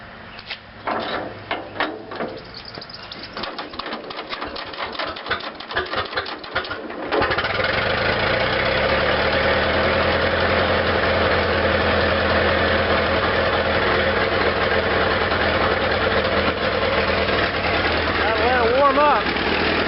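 A Farmall Regular tractor engine being hand-cranked with uneven, rattling strokes for several seconds, then catching and settling into a steady, loud idling chug that runs to the end of the clip.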